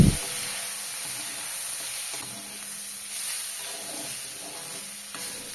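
Duck meat fries without oil in a pan while ground panch phoron, cumin and jaluk pepper are stirred in, giving a steady close sizzle with soft scraping strokes of stirring and no talk.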